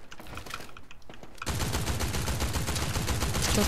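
Quiet background sounds give way to sudden, sustained rapid gunfire, dense automatic bursts continuing loudly to the end.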